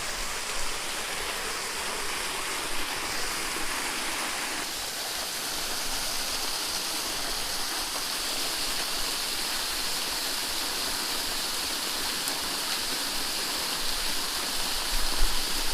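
A waterfall rushes loudly and steadily at close range, a dense unbroken roar of falling water that lasts throughout.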